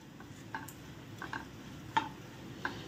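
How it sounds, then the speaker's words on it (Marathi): Grated coconut with a cinnamon piece and cardamom dry-roasting in a kadhai, stirred constantly: soft irregular scrapes and taps of the spatula over a low, steady background hiss, with no talk. "खोबरं सतत हलवतच एकसारखं रंग येईपर्यंत भाजून घ्यायचं आहे।"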